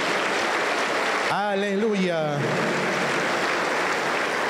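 Applause during a church service, a dense steady wash of clapping throughout with a voice briefly calling out over it.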